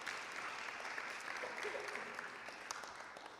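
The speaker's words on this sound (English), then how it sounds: "Yes, you can applaud for that." An audience at a reading event applauds steadily, a dense, even wash of clapping from a crowd heard at a distance and fairly quiet, continuing throughout.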